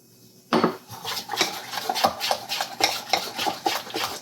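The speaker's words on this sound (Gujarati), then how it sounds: "બરાબર હલાવી લઈશું" A spoon clinks and scrapes rhythmically in a bowl, stirring Eno into bottle gourd handvo batter; repeated close strokes start abruptly and continue steadily, with no speech.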